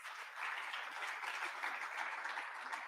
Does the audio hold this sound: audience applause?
yes